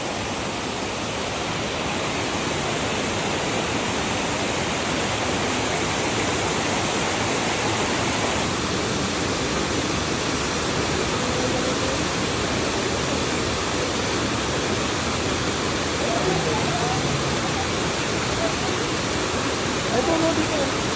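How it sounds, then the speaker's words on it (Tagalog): A waterfall on an adventure trail rushes in a steady, broad roar that fills the whole stretch without letup, fairly close and constant. "Yung waterfall sa taas, oh."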